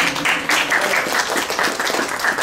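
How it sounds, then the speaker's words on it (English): Audience applause at a science-based medicine talk held at an atheist group meeting, a short burst of many people clapping at a fairly even level for a couple of seconds. "Give yourselves a big round of applause."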